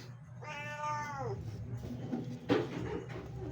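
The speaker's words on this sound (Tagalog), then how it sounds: "Ingay na ng pusa ko." A pet cat lets out one drawn-out, wavering meow close by in a home kitchen while fish is being cooked, followed by a soft clatter and low room noise.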